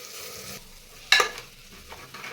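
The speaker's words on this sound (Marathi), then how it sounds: "आता तांदूळसुद्धा दोन मिनिट या मसाल्यामध्ये भाजून घ्यायचे आहेत" Washed everyday rice is roasted in masala in a pan for a spicy lima-bean rice, giving a quiet steady sizzle with a sharp metallic spoon scrape partway through, close and without talk.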